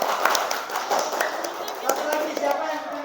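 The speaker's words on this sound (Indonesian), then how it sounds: "tepuk tangan dong" Schoolchildren in a classroom clap their hands together, a busy patter of light claps and taps mixed with children's voices and chatter, moderately close.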